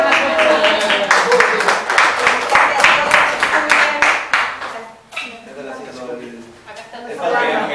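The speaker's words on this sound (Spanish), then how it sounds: "Un aplauso." Audience applause at a political gathering in Merlo, loud dense clapping that fades after about five seconds, with crowd chatter and voices beneath it before the noise picks up again.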